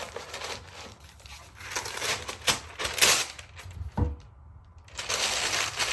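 Sheets of craft paper are wadded up by hand, giving close, loud bursts of crackling and crinkling in irregular handfuls with short pauses between.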